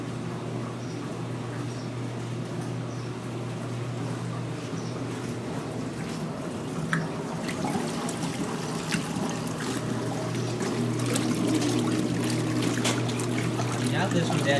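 Washing machines agitating with their lids closed while being brought back into use for the season, a steady low hum with sloshing water churning underneath, as people talk over it.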